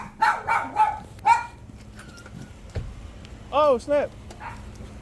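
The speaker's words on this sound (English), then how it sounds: "Yeah, puppy." A puppy barks several times in short bursts near the microphone, with a person speaking briefly between the barks and faint background hum, during an HVAC service visit at a home.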